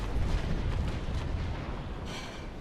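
Sailing-ship cannons firing during a Naval Action video game battle between second-rate ships, a dense rumbling barrage of booms rolling on continuously, with a sharper burst near the end.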